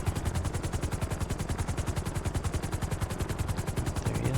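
A helicopter in GTA V (FiveM) gives a fast, steady rotor chop, an even pulsing thud that runs loud and close without a break.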